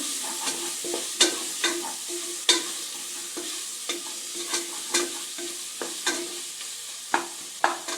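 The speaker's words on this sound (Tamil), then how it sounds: "வெங்காயம் இஞ்சி கொஞ்சம் நல்லா வதங்கட்டும் தக்காளி ரெண்டு தக்காளியும் ரெண்டு பச்சை மிளகா சேர்த்துருக்கேங்க" Onion, ginger, tomatoes and green chillies sauté in a pan for mutton kurma. A steady close sizzle runs throughout, broken by repeated scraping stirs of a spoon, with no talking.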